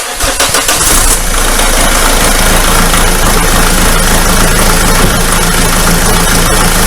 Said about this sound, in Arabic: تو هنا نعمل شنو؟ نشغل السيارة،